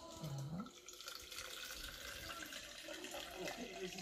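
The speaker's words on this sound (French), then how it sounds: "Je mets un peu d'eau tiède" Lukewarm water poured from a container for dissolving yeast when making Congolese coconut mikaté doughnuts, a steady, moderately quiet trickling splash running throughout.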